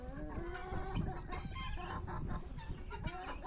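A Wyandotte hen and other poultry cluck continuously in a farmyard, overlapping calls close by with a brief crow-like cry in the mix.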